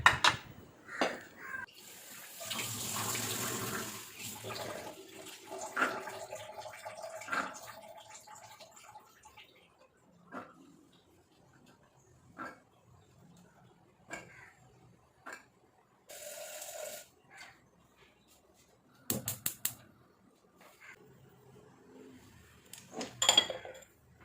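Pots and dishes being washed at a kitchen sink after tea: scattered clinks and clatters of metal vessels and utensils, bursts of running tap water, and quiet gaps, close and moderately loud with no talk.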